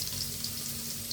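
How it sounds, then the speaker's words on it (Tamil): Garlic frying in hot oil in a pan while cooking vegetable fried rice for a lunch box, giving a steady, close, bright sizzling hiss with no talk. "எண்ணெய் காஞ்சிருச்சு. வெள்ளைப்பூடு போடணும்."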